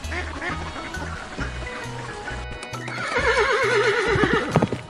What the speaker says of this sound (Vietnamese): con ngan